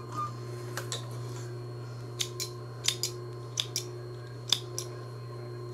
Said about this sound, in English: My little snips aren't the sharpest in the world, but they work.